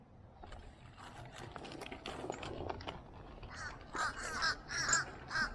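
Several crows caw in a lively, overlapping chorus outdoors near a great horned owl nest, the harsh calls growing louder and more frequent toward the end, with faint human voices and rustling underneath.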